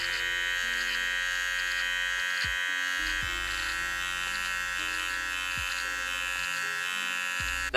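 An electric trimmer cuts goatee hair with a steady close buzzing hum that runs throughout and brief pitch dips as it meets the hair, with no talking.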